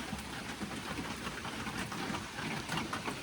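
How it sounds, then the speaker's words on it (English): Steady rain falls outside a camper on a July day, a soft continuous patter of drops at moderate distance with no voices over it. "And it's raining."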